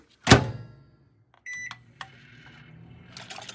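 A microwave oven cooking lemon curd gives a sharp clunk of its door, then beeps from the keypad, followed by the low hum of the oven starting to run.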